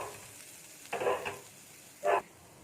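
Spiced fish curry masala with turmeric sizzles softly in a pan, broken by two brief louder scraping bursts as it is stirred with a spoon; close by, with no talking.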